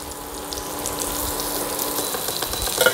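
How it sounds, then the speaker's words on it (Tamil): Dried anchovies fry in a pan until crispy, giving a steady close hiss and crackle of hot oil with small pops and no voices. "நெத்திலியும் நல்லா மொறுமொறுப்பு ஆகிற வரைக்கும் வறுக்கணும்"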